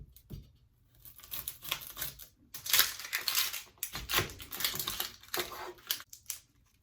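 Skin is pulled and torn off a pepper up close, making bursts of crisp tearing, crackling and scraping sounds in irregular clusters separated by short quiet gaps, with no voices.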